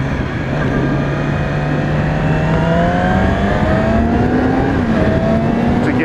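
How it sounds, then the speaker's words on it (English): A 2016 Yamaha R6 sport motorcycle revs hard on a test ride. Its engine holds a loud, steady drone that climbs gradually in pitch, dips briefly near the end, then rises again, with no talking. "You still kind of have to rev the crap out of it"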